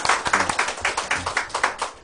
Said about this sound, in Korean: 우리 다시 한번 감사의 박수를 드리겠습니다